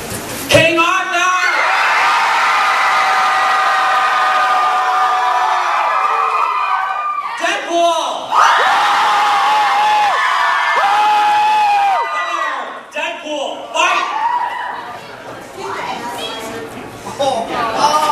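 A large anime convention crowd screams and cheers loudly for long stretches, breaking off briefly into scattered shouts, whoops and talk before roaring again.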